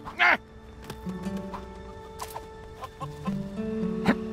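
Chicken clucking from the farm coop in the Lego DC Super Villains video game, brief clucks scattered over a busy game soundtrack with steady musical tones and other effects.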